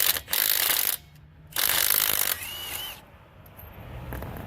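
Milwaukee M12 stubby 1/2-inch impact wrench taking lug nuts off a Dodge Ram, in two loud rattling bursts of about a second each, close up, followed by quieter clicking.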